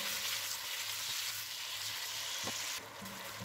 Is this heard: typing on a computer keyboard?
no